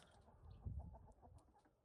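Free-ranging roosters scuffle and cluck in the background, with soft, brief calls over a low rumble, faint and somewhat distant.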